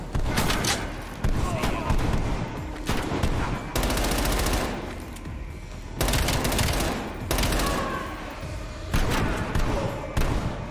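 Repeated bursts of automatic gunfire in Call of Duty: Black Ops Cold War, coming in several loud volleys separated by short gaps, with voices talking over the fighting.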